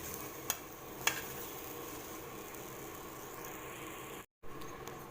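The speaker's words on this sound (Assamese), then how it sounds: "খুব কম জুইত এনেদৰে লৰাই লৰাই কঁঠালগুটিখিনি ভাজি থাকিব।" Jackfruit seeds stirred and dry-frying in a pan over a low gas flame give a quiet, steady sizzle, with a couple of brief scraping knocks near the start and one short gap.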